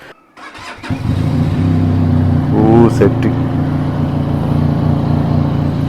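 A Ducati Monster motorcycle engine cranks and fires up, settles into a deep, throbbing idle, then gives a short rev; someone speaks briefly.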